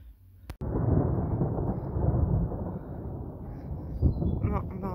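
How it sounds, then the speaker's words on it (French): Thunder from an approaching storm over a vegetable garden rolls in as a loud, sustained low rumble right after a sharp crack, with rain beginning to fall. "Il y a de l'orage dans l'air."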